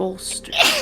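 A sneeze from a person during a tabletop Dungeons and Dragons session, one short burst of breathy noise rising after a brief inhale, with speech around it.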